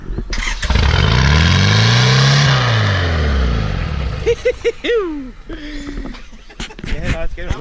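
A car engine revs hard and loud on a Cape York road trip, climbing and falling through a smooth arc with little fuel input, then settles into a lower idle as people talk over it.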